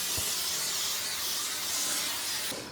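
Steady close hiss of spray coating the inside of a raw steel offset smoker, a continuous broadband wash that runs unbroken and loud before easing off at the end.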